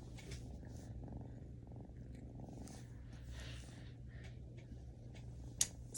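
A cat purring steadily and close, a low continuous rumble throughout, with a brief sharp click near the end.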